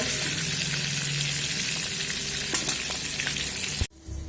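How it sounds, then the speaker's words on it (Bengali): Prawns sizzle and fry steadily in hot oil in a pan, a loud continuous crackle with occasional stirring clinks, cutting off abruptly near the end. "চিংড়ি মাছগুলো তুলে বাকি চিংড়ি মাছগুলো ভেজে নেব"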